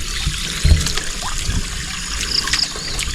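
Water trickles and splashes steadily, close up, with a few small knocks and clinks; no talking.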